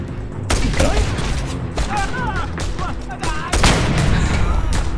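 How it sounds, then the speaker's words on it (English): Gunfire in the open-world action video game Just Cause 2, loud sustained bursts of shots running through the whole stretch, with a voice speaking over the shooting in places. "Stop shooting at me."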